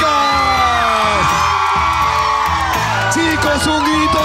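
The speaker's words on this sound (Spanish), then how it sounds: "¡Chicos, un grito, chicos!" A Spanish-language TV studio audience shouts, whoops and cheers loudly and continuously, voices overlapping in a dense roar with rising yells throughout.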